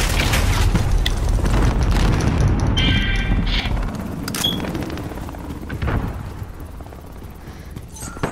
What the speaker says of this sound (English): Alright, Nuke.